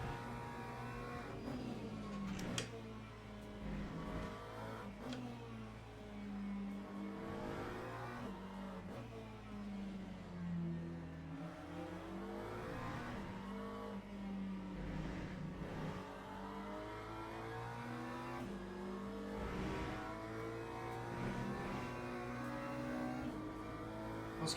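Race car engine running steadily on the Paul Ricard circuit, a continuous loud drone with shifting pitch as it revs up and down, heard close throughout without any talk.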